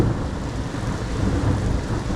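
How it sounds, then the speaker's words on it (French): Heavy rain pours steadily during a violent thunderstorm in Liège, Belgium, with low thunder rumbling underneath in a constant, enveloping wash of sound. "C'est un très violent orage qui est en train de nous frôler."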